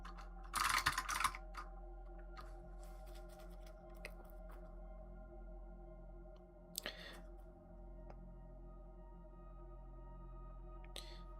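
Computer keyboard typing during a C++ coding session, a quick burst of clustered keystrokes at the start followed by a few scattered clicks over a faint steady hum, quiet and close.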